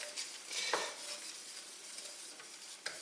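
A utensil stirs flour through hot coconut oil in a pan, giving a soft, continuous sizzle with light scraping and an occasional clink, close and alone.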